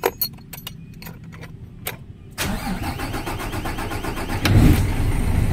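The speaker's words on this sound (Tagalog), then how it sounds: "Pag pina-andar natin ito, one click lang siya. Maganda ang andar niya." An Isuzu 6WG1 truck engine, under overhaul with an electrical fault, catches on a single crank after a few scattered clicks and knocks, then settles into a steady diesel idle that swells briefly near the end.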